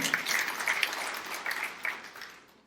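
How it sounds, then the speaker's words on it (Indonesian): A church congregation gives lively applause during a sermon, a short burst of many hands clapping at moderate distance that fades away toward the end. "Tepuk tangan yang meriah untuk kamu."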